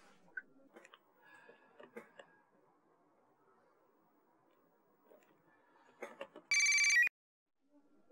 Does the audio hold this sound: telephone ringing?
yes